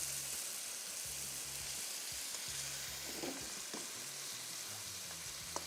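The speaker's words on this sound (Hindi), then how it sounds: "तेज़ आंच रखनी, आंच धीमी नहीं रखनी, और फ्राई करते जाएंगे।" Minced meat and onions fry over high heat with a dense, steady sizzle and intermittent scraping of a spoon stirring in the pan, close up and without voices.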